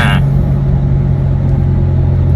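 Isuzu D-Max pickup with a 4JK1 engine driving on the road, a loud steady engine drone and road rumble close up, with a brief higher whine at the start as gears change.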